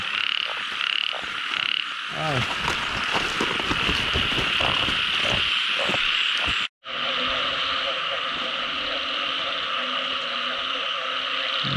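Frogs croaking at night in a rice field in Thailand, a dense continuous chorus of rattling calls with louder nearby croaks and splashy rustling, briefly cut before the chorus resumes.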